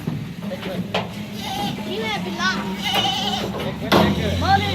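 Goats bleat in quavering calls at a village livestock spot where goats are brought in numbers and trucked out, mixed with steady crowd chatter and nearby voices talking throughout.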